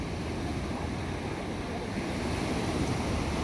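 Ocean surf rolling and breaking along a busy beach at Newcastle, NSW, a steady broad wash of waves with some wind noise, continuous and fairly loud with no distinct individual breaks.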